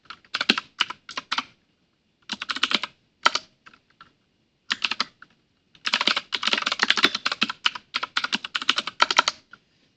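Fingers tap a computer keyboard in quick irregular bursts separated by short pauses, close and crisp, with a long steady run of keystrokes near the end.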